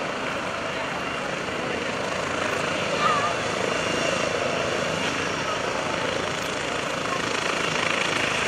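A T-34 Mentor propeller airplane sits with its engine running before takeoff at an airshow, a constant loud broadband drone without a break, heard from close by.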